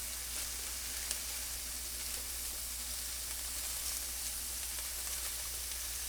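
Smoked sausage pieces browning in a pan give off a steady, even sizzle that holds at a moderate level throughout, with no talking.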